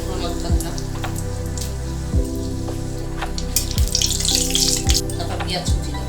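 Bay leaves and dried chillies fry in oil and Amul ghee for chicken rezala, with a continuous sizzling hiss broken by several dull thumps over a steady background tone.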